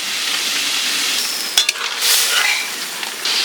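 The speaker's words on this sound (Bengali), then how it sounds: "আমি এখন ডালটা ছেড়ে দিচ্ছি" Lentils for dal with pui shak hit a hot pan and set off a steady broad frying sizzle, with a brief sharp clatter midway and the hiss swelling slightly afterward; no talking.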